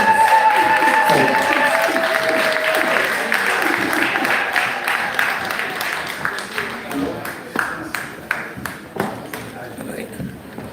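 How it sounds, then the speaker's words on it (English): Applause from a crowd, starting dense and fading into scattered individual claps, with voices and cheering mixed in at the start. "give him a round of applause"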